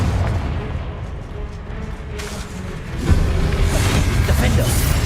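A Confringo fire spell blast in Hogwarts Legacy, a loud booming burst with rumbling low end that swells midway, heard over continuous game noise and a voice calling out.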